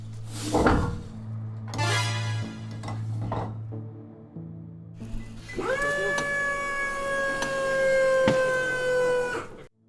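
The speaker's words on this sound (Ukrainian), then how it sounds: "М109Л піднімається ствол." An M109 howitzer raises its barrel: a heavy mechanical whine rises and holds steady, a loud motorized hum with clanks and thumps before it starts.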